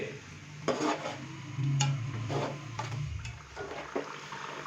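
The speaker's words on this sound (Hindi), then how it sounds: "तो इमली मिला पल्प डालेंगे, अच्छे से मिक्स करेंगे और मसाले को तकरीबन 5 से 7 मिनट अच्छे से भून लेंगे" Spoon stirring masala with tamarind pulp in a cooking pot as it roasts, producing soft scrapes and a few metallic clinks over a low, steady sizzle.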